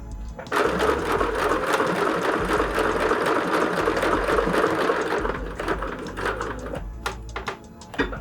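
A sewing machine runs steadily for several seconds, stitching a pocket back onto a Luella clutch bag with WonderFil thread; the rapid mechanical whir is close and loud, with a few brief pauses near the end.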